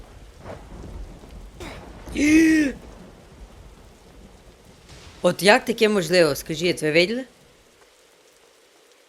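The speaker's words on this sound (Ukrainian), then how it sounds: "Так, дощ. Починайся. Ого, блискавки." Rain pours and thunder rolls with lightning during a storm in the Roblox game Disaster Island, a steady hiss with a louder burst early on before a voice talks over the fading downpour.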